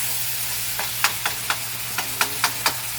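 Szechuan beef sizzles in a pan over medium-high heat with a steady hiss, broken by a handful of sharp crackles and pops spaced about a quarter second apart, with nobody talking.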